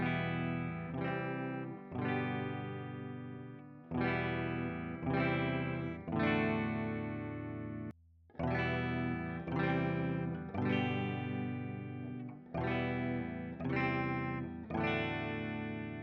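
Clean electric guitar picked with a 3D printed plastic pick, strummed chords ringing in steady bars with a short pause midway, moderately loud, no voices.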